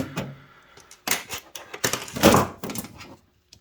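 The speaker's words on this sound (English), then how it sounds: "So I'm gonna take the side panel off." A side panel comes off a desktop computer case: a series of close metallic thunks, scrapes and clatters in irregular bursts, with short quiet gaps between handling noises.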